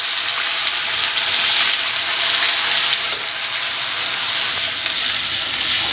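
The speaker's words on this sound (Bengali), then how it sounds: "পেঁয়াজটা ভালোভাবে ভেজে নেব" Onion paste frying in hot oil in a pan, a steady dense sizzle and hiss running throughout at close range with a faint tick or two, no voices.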